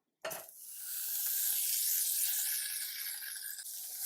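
A stick of butter melts in a small saucepan for homemade spaghetti meat sauce, starting with a brief clink, then a steady, close hiss and sizzle that runs unbroken to the end with no talk.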